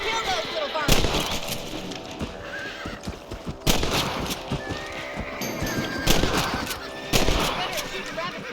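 Gunfire from hunting rabbits in the Western video game Red Dead Redemption, with sharp loud shots spaced a second or more apart over horse hooves, whinnies and game ambience.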